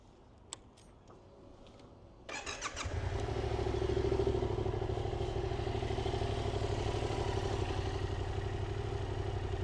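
A Yamaha MT-07 motorcycle with 17,787 km on it starts up after a couple of seconds of quiet, then runs at a steady, loud, close idle with a deep even rumble and no talk.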